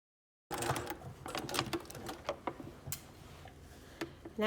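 Home sewing machine stitching a convertible collar and facing, running in reverse back to a folded-over shoulder seam and then forward; a close, steady mechanical ticking with irregular bursts of stitching and no talk.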